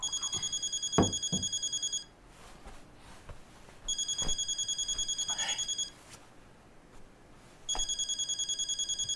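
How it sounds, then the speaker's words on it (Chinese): A telephone rings with an incoming call in three clear bursts of a bright, repeating electronic trill separated by pauses, with faint background noise in between and no one speaking. "您老婆又给你打电话了"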